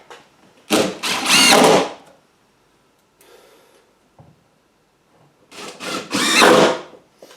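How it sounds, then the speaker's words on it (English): A power drill drives screws into a wooden stud at a chicken coop's nesting box, two loud whirring bursts of a couple of seconds each, separated by a quiet pause with faint handling sounds. "I definitely want to have some screws into the stud"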